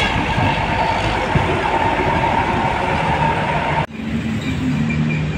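A Pahala Kencana coach with an SHD body and Hino RK engine pulls into the Cikarang agent stop, its loud, steady rumbling drone continuous and close, briefly dipping before resuming a lower idling hum.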